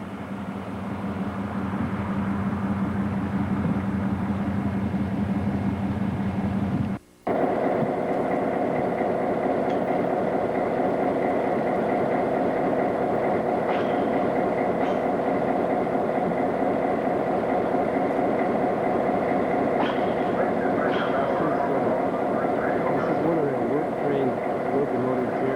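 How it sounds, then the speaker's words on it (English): A Lewis and Clark Railroad train pulled by restored diesel locomotive number 81 drones steadily with engine rumble and rolling noise, loud and near. A brief dropout interrupts it early. "One of the two nicely restored locomotives they have, number 81, will be pulling the train"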